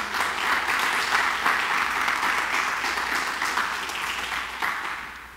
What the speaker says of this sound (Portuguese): Você pode dar um aplauso ao Senhor aí?